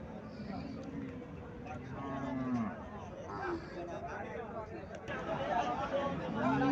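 A cow moos at a cattle market in Comilla, Bangladesh, with a few drawn-out lowing calls rising over constant crowd chatter and nearby talk.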